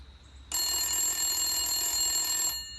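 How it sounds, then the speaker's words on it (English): Telephone ringing during a call, a single steady electronic ring burst lasting about two seconds, loud and close, alone with no voices. "I'm going to give him a quick call"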